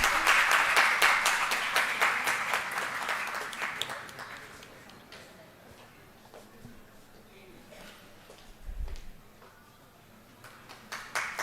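Applause at a formal conference on India's G20 presidency, a loud burst of many clapping hands that fades over several seconds, followed by quieter scattered claps and room noise with talk.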